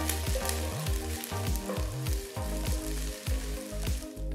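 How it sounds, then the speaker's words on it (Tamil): Ginger garlic paste sizzles and fries in hot oil, with rhythmic stirring scrapes of a spatula against the pan throughout. "1 டீஸ்பூன் இஞ்சி பூண்டு பேஸ்ட் போடுங்க. பச்சை வாசனை போகிற வரைக்கும் வதக்குங்க."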